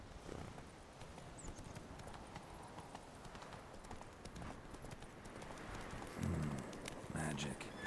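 Horse hooves gallop in steady clip-clop rhythm through the Witcher 3 video game, close and continuous for the whole stretch, with someone talking over them and faint birdsong behind.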